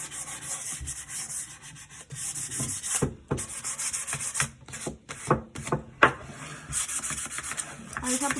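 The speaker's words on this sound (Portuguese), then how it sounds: "Aí já aproveito para passar a lixa em toda a bandeja." Sandpaper rubs over a rustic wooden tray in uneven, close strokes, broken by short sharp scuffs as the corners and edges are worked.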